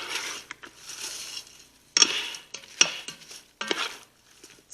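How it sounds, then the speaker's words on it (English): Chicken fajitas with peppers and onions get stirred in a Ninja Foodi air fryer, with a utensil scraping and clinking against the pot in irregular bursts, close up, over a soft sizzle and no talk. "So I want to stir this up."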